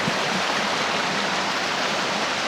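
A waterfall and river in a forest in Ternate, Cavite give a steady, loud, unbroken rush of flowing water with no voices.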